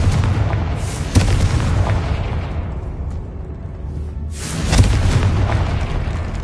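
Booming spell blasts from Hogwarts Legacy, the Confringo explosion hitting with a sharp burst early on and a second heavy blast near the end, each trailing into a broad rumbling roar with no talk.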